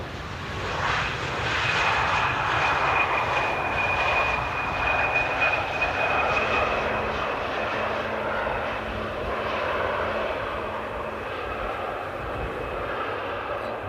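A KLM City Hopper airliner arriving at Amsterdam Airport at sunset roars steadily overhead, a loud continuous jet-engine rumble with a high whine that slowly fades toward the end, outdoors and without speech.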